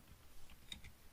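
Faint, sparse keystrokes on a computer keyboard, a few soft clicks scattered across a quiet moment with no talking.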